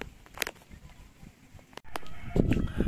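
White Kelso chickens cluck and a rooster calls in short bursts amid backyard farmyard noise, with a louder jumble of fowl sounds toward the end.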